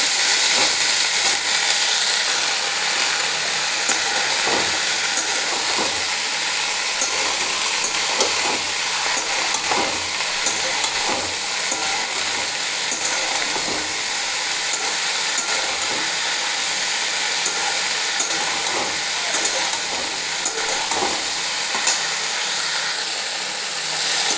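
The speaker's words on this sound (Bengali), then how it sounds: "খুব ভালো করে এগুলো ভাজবো।" Vegetables frying in oil in a pan, a continuous bright hiss and sizzle with scattered crackling pops, close and steady for the whole stretch without voices.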